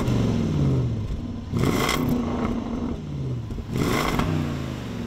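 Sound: 2023 Land Rover Defender 110 supercharged V8 exhaust revving

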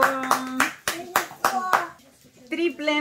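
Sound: applause

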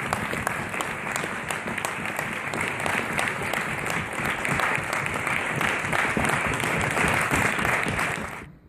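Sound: applause from the council

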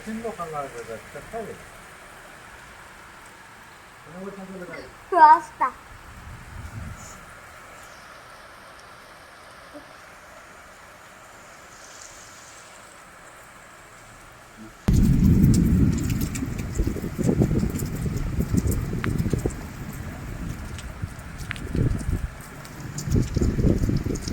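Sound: rain falling

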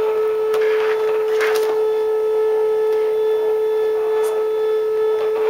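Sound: Cricut cutting machine running

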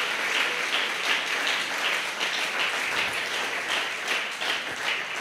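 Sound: congregation applauding in church

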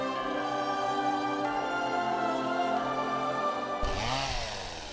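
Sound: chainsaw running

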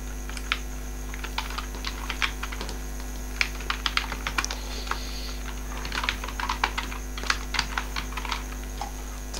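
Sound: typing an email address on a computer keyboard

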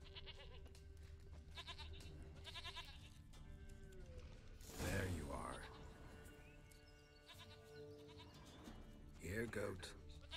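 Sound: goat bleating in the video game Witcher 3

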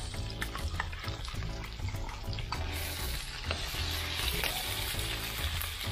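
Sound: pork spare ribs frying in a pan

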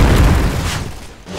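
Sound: grenade explosion in the video game Point Blank

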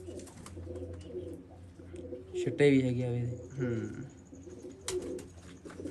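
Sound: pigeons cooing

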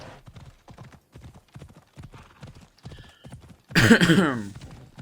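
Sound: horse galloping in a video game

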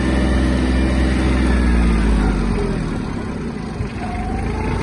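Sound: Yanmar F-155 Japanese mini tractor driving at top speed

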